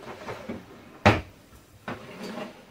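A wooden drawer holding hand saws slides open in a small home workshop, giving one sharp knock of wood on wood, with softer rustling and scraping before and after it.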